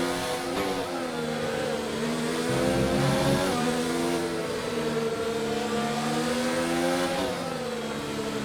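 A Formula 1-style race car accelerating on track during a race, a loud rising and falling engine whine with harmonic sweeps as revs climb, dip and climb again through gear changes, heard continuously with no speech.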